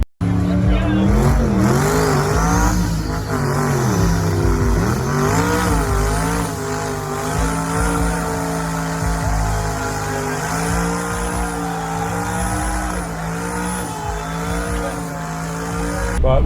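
A car on summer tires pulls hard from a roll through third, fourth and fifth gears, its engine loud and close with rising and falling revs, continuous and steady throughout with a voice talking over it.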